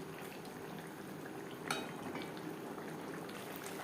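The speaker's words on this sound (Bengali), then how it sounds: "গ্রেভির সাথে মাছ আরও তিন চার মিনিট রান্না করব" Sarputi fish simmering in curry gravy gives a steady, quiet bubbling hiss throughout, with one brief clink near the middle, no voices.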